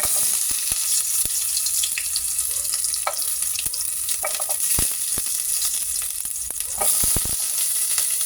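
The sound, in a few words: chicken sautéing in a little oil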